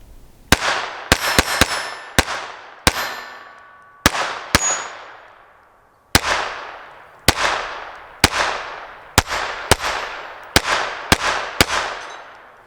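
A KelTec P17 .22 pistol fires a string of about fifteen sharp, loud shots with ringing metallic decay, some in quick clusters and some spaced out, heard outdoors with no talk.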